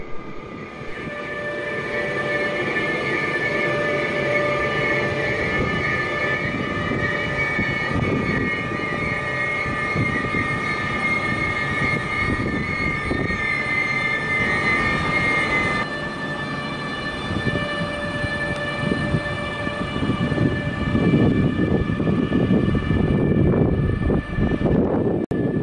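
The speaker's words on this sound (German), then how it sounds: "In Bludenz sehen wir einen halben Alpenexpress Ostenreich aus Den Haag mit der grünen belgischen Lok und den halben Schneeexpress aus Hamburg." Night trains with a green Belgian locomotive standing at Bludenz station in Austria, a steady loud hum of idling locomotive machinery with sustained electrical tones and a rising rumble of movement toward the end.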